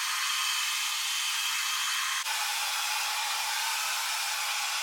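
A hair dryer fitted with a diffuser blows steadily on curly hair, a constant close airy roar that dips for an instant midway before carrying on unchanged.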